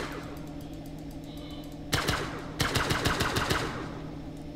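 Automated turrets fire in the space-survival game Breathedge: a sharp opening shot, then a rapid machine-gun burst of evenly spaced loud reports with some echo, over a low steady hum.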